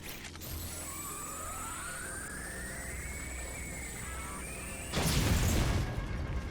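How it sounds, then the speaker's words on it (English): An explosion bursts in the shooter game Hard Reset Redux, a sudden loud broadband blast near the end over a steady hum of machinery and rising synthetic whines. "that does cause an explosion"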